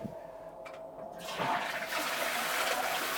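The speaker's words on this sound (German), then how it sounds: "winzige Toilette, aber sehr praktisch. Man kann Licht anmachen, Treppe, und wenn man spült," A small toilet in a tiny home flushes nearby, a click followed by a steady rushing swirl of water that keeps running to the end as the hand-washing tap refills the cistern.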